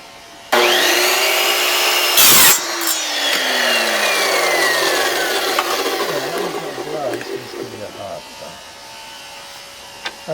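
Evolution Rage 4 chop saw cutting wood fitted with a custom stop block, a loud steady whine that winds down after the cut, close and alone with no talk.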